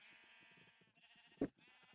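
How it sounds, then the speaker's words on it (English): Sheep in the video game Minecraft bleat in quiet, repeated wavering calls that run almost continuously, with a short sharp thump partway through and no speech. "Isn't there a weird amount of sheep noises?"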